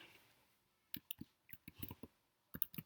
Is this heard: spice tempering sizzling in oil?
no